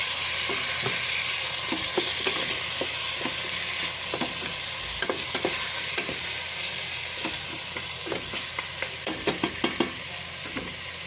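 Chicken wings fry in a pan with oil, a continuous close sizzle punctuated by frequent small pops and crackles, with no voices.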